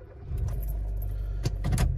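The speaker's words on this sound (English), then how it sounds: "I'm just gonna go ahead and start the car and start driving." Keys jingle and a car engine turns over and settles into a low idle close by, a steady rumble with a few metallic rattles on top.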